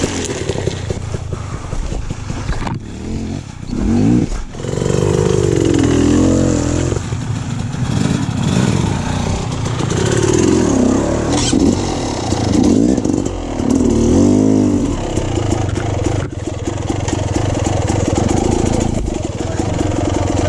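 Big motorcycles ride over chunky off-road terrain, their engines loud and close, idling and revving in surges with varying throttle and rumbling through the whole stretch.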